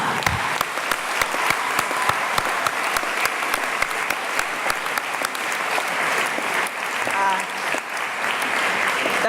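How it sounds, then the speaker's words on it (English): Graduates at a 2018 graduation congregation give a long, steady round of applause, dense clapping from a large crowd filling the hall at a constant level throughout. "I also want you to give yourself a round of applause because you deserve it."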